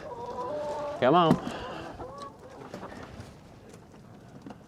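Chickens cluck and squawk close by, with one loud burst of excited calls early on, while a person speaks briefly amid the flock's softer chatter.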